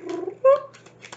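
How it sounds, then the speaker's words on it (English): Pet cat vocalizing nearby, a short soft chirping meow with faint trilling sounds around it, brief and fairly quiet. "I don't know if you guys can hear my cat."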